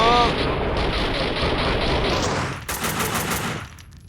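Automatic rifle fire in the Max Payne 2 video game, a fast sustained burst of shots that runs loud and dense for about two and a half seconds, then continues briefly with bright crackling before fading out.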